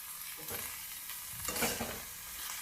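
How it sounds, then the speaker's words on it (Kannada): Garlic paste frying with onions in a pan, a steady soft sizzle with a couple of spatula stirs scraping across the metal, fairly quiet and close. "ಬೆಳ್ಳುಳ್ಳಿ ಪೇಸ್ಟ್ ಇತ್ತಲ್ಲ ಅದನ್ನು ಹಾಕ್ಕೊತೀನಿ ಇದಕ್ಕೆ"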